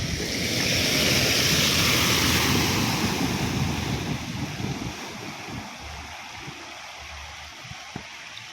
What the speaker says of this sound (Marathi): त्यामुळे इकडे पाणी पुलावरून जातं